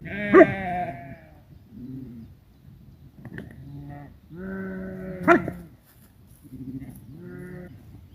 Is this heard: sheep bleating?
yes